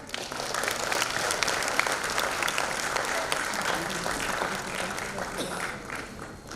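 A conference audience claps in steady, dense applause at an inauguration ceremony, sustained at an even level throughout with no voices over it.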